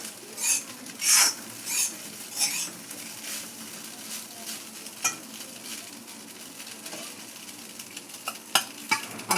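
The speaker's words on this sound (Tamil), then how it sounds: "கடுகு பொரியறது, கருவேப்பிலை பொரியறது" Mustard seeds and curry leaves splutter and crackle in hot oil in a kadai, with bursts of sharp popping and sizzling throughout, plus a few stirring clinks near the end.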